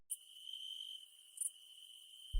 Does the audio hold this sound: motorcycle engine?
no